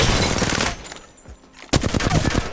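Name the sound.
submachine gun hip fire shots in video game Apex Legends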